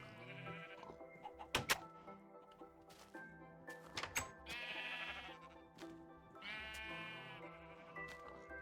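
Sheep in Minecraft on Xbox 360 bleat several times in short, wavering cries, close by and fairly loud. Soft game clicks and thuds sound between the bleats.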